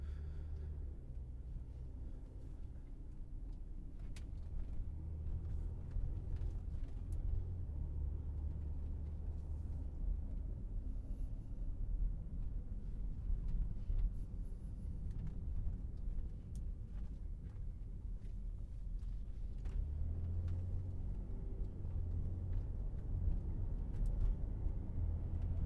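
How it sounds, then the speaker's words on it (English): A 2010 Volvo XC90 on a test drive gives a steady low engine and road rumble from inside the cabin, continuous and even throughout with light tyre noise on top and no talking. "So let's go on a quick test drive."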